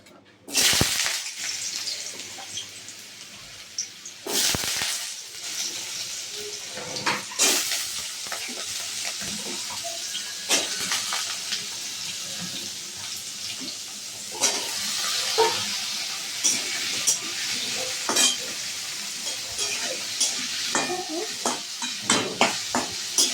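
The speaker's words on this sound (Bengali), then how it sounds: "আলুটা ভাজতে দিয়ে দিয়েছি" Potatoes fry in hot oil in a home kitchen, a steady sizzle and hiss broken by sharp scrapes and clatters of stirring in the pan, close and continuous throughout with no talking.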